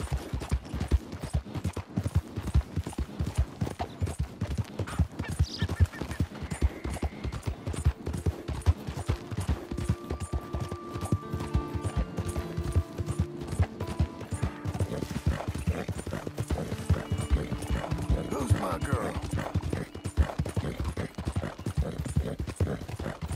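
A horse in the video game Red Dead Redemption 2 clip-clops steadily along in a continuous, fairly loud rhythmic gait, with occasional brief tonal game sounds layered over the hoofbeats.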